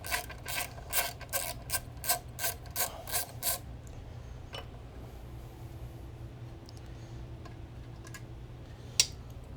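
A ratchet clicks in about nine quick rhythmic bursts at close range while unbolting the crank position sensor from a Jeep TJ transmission, followed by faint tool clinks in a quiet garage.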